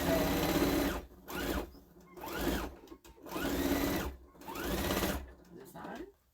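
Sewing machine stitching fabric for a Santa placemat, four bursts of close, fast mechanical whirring separated by short pauses, with a voice talking briefly at the start.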